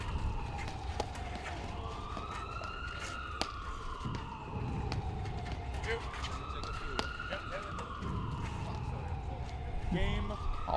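Emergency vehicle sirens wail in slow rising and falling sweeps in the distance at a court during a men's tournament match, running behind nearby talk and occasional sharp ball strikes.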